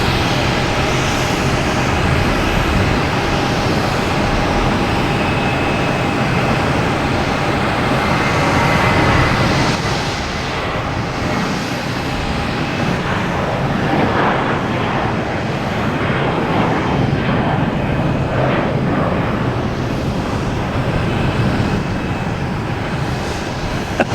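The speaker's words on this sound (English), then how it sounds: "Also have a JetBlue heading to Nashville in A320." A JetBlue Airbus A320 jet at Boston Logan airport, a dense continuous engine roar with a steady whine, loud throughout and shifting slightly midway.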